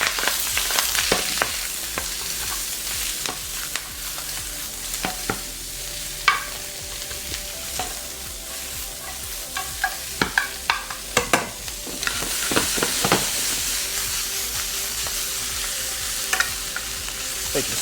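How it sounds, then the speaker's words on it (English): Swiss chard greens sizzle steadily in a hot pan with salt and pepper, broken by repeated scraping and clattering as they are stirred and tossed, close and fairly loud with no talk. "take our greens, nice hot pan, a little bit of salt and pepper. Give it just a little bit of a mix around"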